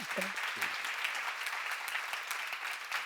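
Applause from a church seminar audience fills the room steadily and fairly loud for about three seconds, with a brief voice at the very start.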